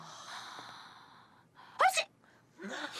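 A single quick, sharp sneeze bursts out between soft breathy sounds and faint vocal noises, close and clear.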